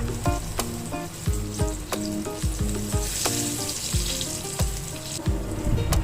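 Tofu pieces frying in hot oil in a pan, a steady loud sizzle with repeated knocks and scrapes as the pieces are flipped, close up with no talking.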